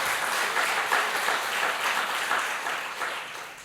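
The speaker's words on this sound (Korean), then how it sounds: "뜨거운 격려의 박수 환호를 한번 보여주세요" A church congregation applauds during a Sunday worship service at Jeju International Full Gospel Church. The clapping is loud and fairly close, continuous for a few seconds and tapering slightly at the end.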